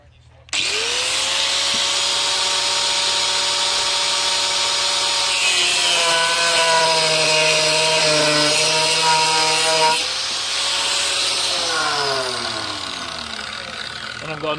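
A power saw cuts through a piece of steel in a blacksmith's shop, a loud continuous whine and grinding rasp. It shifts pitch as the blade bites, eases off, then bites again, with no talk over it.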